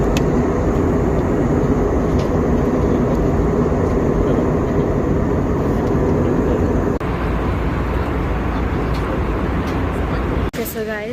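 Airplane landing at the Andaman Islands airport, a loud, steady roar of engines and cabin rumble heard from inside the aircraft, continuous throughout with a brief change near the end.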